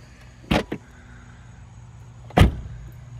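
Two solid thuds from the doors of a 1978 Mercedes-Benz 300SD W116 closing, a heavy shut with a short follow-up knock, then another firm slam a couple of seconds later, close by with no talk.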